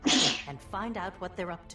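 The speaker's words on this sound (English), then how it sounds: "Yeah, I sneezed." One sharp, close sneeze bursts out at the start, followed immediately by a person speaking a short sentence.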